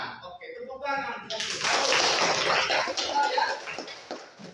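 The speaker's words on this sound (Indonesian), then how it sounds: "Oke, tepuk tangan." Students in a classroom clap together in a loud, dense burst that runs for several seconds, with a voice speaking just before and chatter mixed into the applause.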